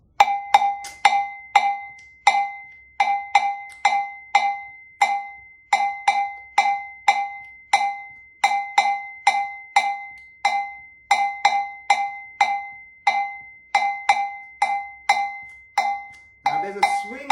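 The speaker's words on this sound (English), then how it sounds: "So for Gahum, the bell sounds like this." An African bell in a drumming workshop plays the Gahu rhythm pattern, its bright metallic strikes ringing close and clear in a steady, gently swinging repeating cycle, with a brief voice at the very end.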